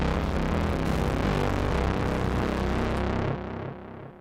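Instrument tone driven through a distortion pedal into an echo effect in an Ableton Live setup, a dense, loud, saturated wash that holds steady for about three seconds, then drops and trails off in fading repeats.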